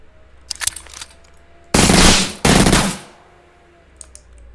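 Video game gunfire while clearing enemies, two loud sustained bursts of rapid automatic fire about a second each with a brief gap, preceded by scattered quieter shots.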